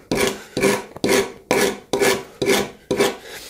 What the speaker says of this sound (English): I'm going to grab a rasp, and I'm going to get rid of all these saw marks